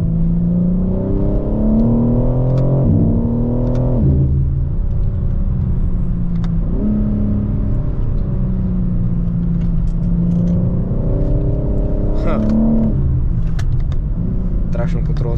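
A BMW M4 Competition engine pulls hard under throttle, its deep rumbling note rising in pitch through several surges and easing between them, loud and close from inside the car.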